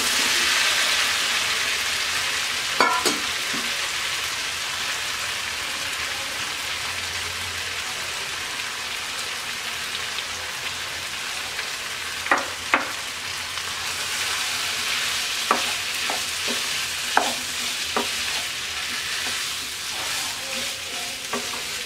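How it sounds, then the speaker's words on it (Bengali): Vegetables and moong dal frying in a pan for a Bengali-style dal, a constant close sizzle with occasional sharp clacks of a spoon stirring, no speech throughout. "এবার সবজি আর ডাল দিয়ে দিচ্ছি।"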